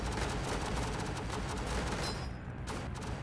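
Dense, continuous machine gun fire in the tower defense game Northend Tower Defense, a distant crackling fusillade with no pauses, steady and without voices.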